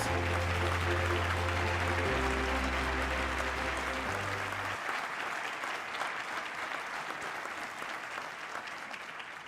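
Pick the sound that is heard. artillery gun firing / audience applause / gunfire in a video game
audience applause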